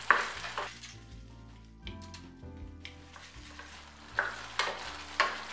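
Fried Manchurian balls are stirred into thick gravy in a pan, a spoon scraping and sloshing in a few separate strokes with a soft sizzle, over background music.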